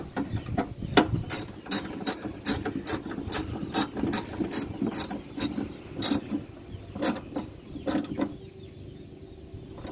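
A hand ratchet clicks steadily in rapid strokes while tightening parts on a Craftsman carburetor. The sound is close and loud, and there is no talk.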